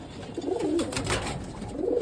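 Pet pigeons coo softly nearby in a loft, a few low rolling calls rising and falling over about two seconds with no talking.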